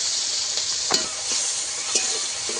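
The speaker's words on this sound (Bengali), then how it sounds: "আদা আর চিংড়ি মাছ আমি একসঙ্গে ভালো করে ভেজে নেব" Prawns and ginger frying together in a pan, a steady loud sizzle with a few brief stirring scrapes, no voices.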